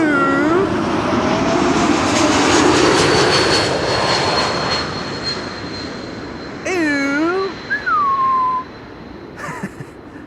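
Transavia A321neo airliner landing at Schiphol, a loud, broad jet engine roar that swells early and slowly fades as it passes, with whining tones and bird-like chirps nearby.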